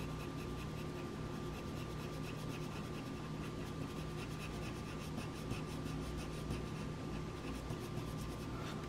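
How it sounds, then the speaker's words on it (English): Steady dry scratching of a 4B shading pencil on paper while drawing a Carcharodontosaurus, a continuous close rasp with fine repeated strokes and no talking. "So right now I'm just using one shading pencil."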